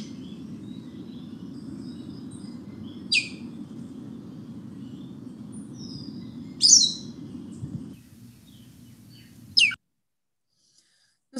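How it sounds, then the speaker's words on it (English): Pearly-eyed thrasher singing outdoors in a yard on St. John, several loud, brief phrases spaced seconds apart over a steady low background rumble that drops away near the end. "This is the pearly-eyed thrasher."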